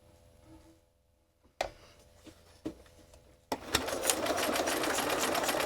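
A sewing machine stitching a monoprinted bookmark with charms starts with a few sharp clicks and thumps, then breaks into a loud, steady, close whirring run of stitches.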